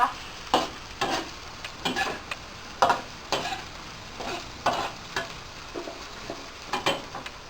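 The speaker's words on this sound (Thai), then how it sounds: "คั่วโดยสักพักนะคะ ไม่ต้องนานมาก" Ingredients being stir-fried in a hot pan, with a steady low sizzle broken by repeated sharp scraping strokes of a spatula at an uneven, brisk rhythm, close and fairly quiet, with no talking.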